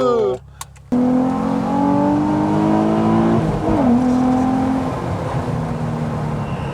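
A Nissan 350Z engine revs loudly from up close with the pedal barely pressed, its steady harmonic drone rising and falling after a short burst at the start, while people talk over it.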